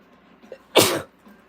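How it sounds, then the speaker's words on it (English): A single close, loud sneeze: a short intake of breath, then one sharp explosive burst that fades quickly in quiet surroundings. "I have to sneeze."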